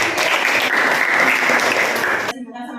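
A classroom of students claps during an Indonesian school lesson on the water cycle, loud and close applause that stops abruptly near the end as a voice begins speaking.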